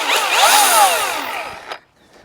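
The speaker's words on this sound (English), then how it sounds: "this is the new Milwaukee M18 topping saw" A Milwaukee M18 battery topping saw runs with a loud whining chain and shifting pitch as it cuts. It winds down abruptly after about two seconds, leaving a faint tail.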